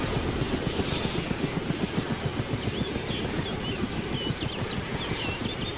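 A helicopter in the video game ArmA 2 DayZ gives a steady, close rotor thump with rapid rhythmic blade chopping over a dense engine roar, continuous and loud throughout.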